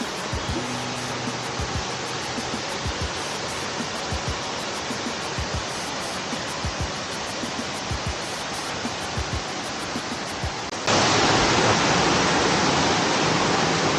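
Strong water current rushes over Wawa Dam in Montalban, Rizal: a dense, continuous roar of whitewater, loud and steady, growing brighter and louder near the end with no talk over it.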